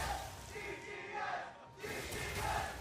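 Arena crowd at a League of Championship Series esports match cheering and shouting, swelling in loud waves with a brief dip midway.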